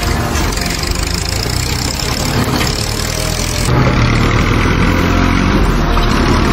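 A Mahindra Thar and a tractor strain against each other in a tug-of-war, their engines droning loudly and steadily up close, with the roar thickening partway through.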